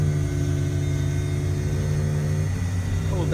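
A deep, steady engine rumble idles and holds a low growl throughout, loud and close, with a slight shift near the end.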